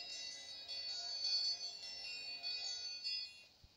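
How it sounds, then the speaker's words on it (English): Bell ringing in The Walking Dead video game, a faint sustained high metallic ring with shimmering overtones that swells and fades over a few seconds, with no voices over it. "Is that the bell to go?"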